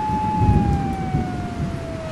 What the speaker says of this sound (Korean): 경찰차 소리가 왜 들려?